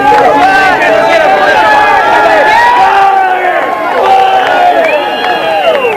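Dense crowd hubbub surrounding a driver in Gasoline Alley at the 1987 Indianapolis 500, loud overlapping voices and calls close by, with a commentator talking over the noise.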